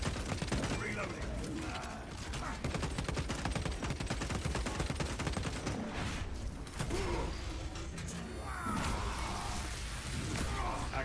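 Gunfire in Space Marine 2: rapid bursts of automatic fire roll on almost continuously amid dense battle noise, loud and close.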